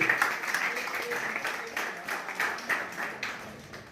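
Applause at a school retirement ceremony for a teacher, a crowd clapping steadily at moderate distance, fairly soft, with voices heard over it.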